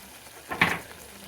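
A spoon stirs stuffed brinjal curry with salt, garam masala and chopped coriander in a hot pan, giving one short, close scraping sizzle.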